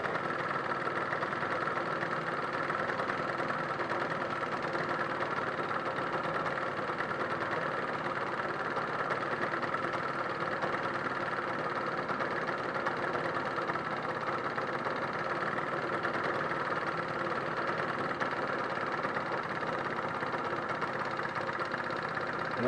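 A car engine idles roughly at low revs, a steady continuous drone with uneven knocking underneath, moderately quiet and alone without talk.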